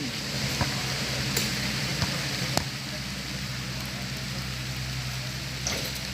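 Heavy rain pours down steadily during an outdoor shooting game. It makes a constant, even hiss with a few sharp ticks and knocks scattered through it.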